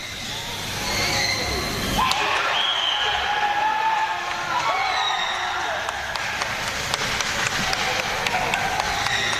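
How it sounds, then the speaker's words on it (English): Cheering drifts over from a neighbouring football pitch, Court B, as a sustained crowd roar at some distance, with a commentator talking over it. "You're hearing lots of cheering. That's from the Court B pitch."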